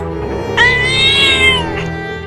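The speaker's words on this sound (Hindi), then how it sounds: "वो देख वहाँ पर एक बड़ी बिल्ली चिल्ला रही है" A cat lets out a long, loud drawn-out yowl that rises and wavers before trailing off, heard alone and close by.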